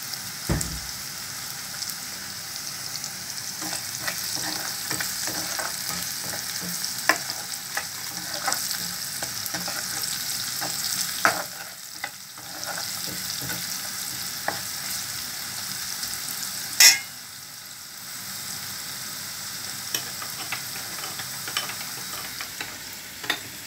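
Garlic with a pinch of salt frying in a pan for cauliflower pickle, a steady close sizzle with intermittent scraping and clinking as it is stirred, continuing throughout.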